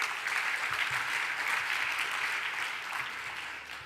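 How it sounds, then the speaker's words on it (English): Audience clapping steadily at a conference session in honour of its media partners, a dense wash of many hands that stays full and then slowly thins out toward the end. "Please applaud media partners, ICTV, Novoye Vremya, Ukraine 24 and Ukraina."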